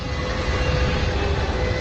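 An F-35 jet hovering in VTOL mode in a film scene gives off a loud, steady engine roar that holds constant throughout, with no voices over it.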